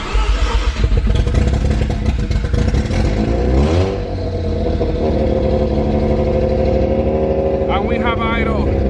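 A Mazda RX-7 FC3S rotary engine with a loud exhaust cranks and revs roughly, then settles into a steady, raspy idle close by, with a person's voice heard over the running engine.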